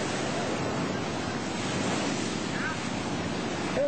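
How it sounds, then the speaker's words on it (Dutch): Tsunami waves at Krabi, Thailand, in 2004 surge and roar steadily, a loud broadband wash of surf with wind buffeting the microphone, no voices. "Oh, daar komen de golven hoor."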